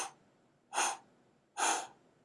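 Two strong, breathy mouth exhalations in a guided breathing exercise, each about a third of a second long and evenly spaced, with a faint tail of breath at the start and near-silence between them.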